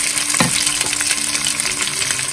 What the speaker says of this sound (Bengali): এখন আমি এটার মধ্যে অ্যাড করব সেই গরুর মাংস যেটা আমি সেদ্ধ করে